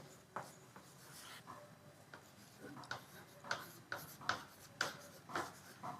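A pen or pencil writes out a math statement on paper close by. Faint scratching strokes give way to a series of sharp taps and ticks spaced about half a second apart, and no voice is heard.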